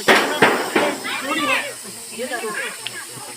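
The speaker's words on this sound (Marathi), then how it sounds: "गोनस चिडल्यानंतर कशा प्रकारे आवाज करत असतो" An angry Russell's viper (ghonas) gives loud, breathy hisses, several sharp bursts in quick succession and then softer, wavering hisses, up close, with a person's voice mixed in among them.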